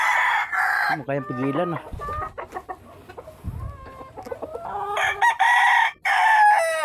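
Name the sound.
rooster crowing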